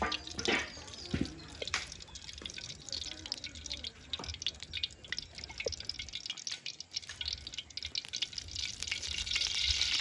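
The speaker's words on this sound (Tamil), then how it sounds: "இதுக்கு வந்து நாங்கள் நெய் விடுவோம் முதல்ல அதோட எண்ணெய் விடுவோம்" Ghee and oil heat in a pan for frying brinjal, giving a steady, close crackling sizzle with scattered sharp pops throughout.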